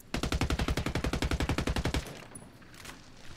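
A rapid burst of automatic gunfire in the video game Ghost Recon Wildlands, about twenty evenly spaced loud shots over two seconds that cut off abruptly, leaving a quieter background tail.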